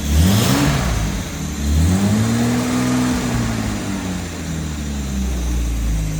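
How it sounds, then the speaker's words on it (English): Rebuilt engine from a 1968 Jaguar E-Type running on a test stand, revved several times with rising and falling engine pitch, loud and close with no talking. "We're gonna rev it a few times."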